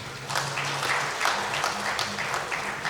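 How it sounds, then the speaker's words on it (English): Audience applause at a board and management retreat: moderate, fairly distant clapping from a seated group, steady, with faint murmuring voices underneath. "Please give them a round of applause."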